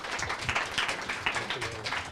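Audience applause at a panel discussion on media in Chicago, a brief patter of clapping from a room of people, moderately loud and steady for a couple of seconds, with no voices over it.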